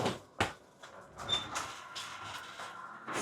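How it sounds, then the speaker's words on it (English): A garage door is opened in a workshop holding an old Steyr Puch engine, giving a few bumps and a rolling, rattling slide of moderate loudness close by. "let me just open the garage door so we have a little bit of air in here"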